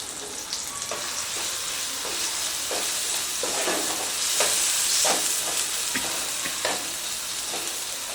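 Loud, continuous sizzling of onion, tomato, green chili and ginger-garlic paste frying in hot oil, with crackling bursts and scraping stir strokes spread across the whole stretch.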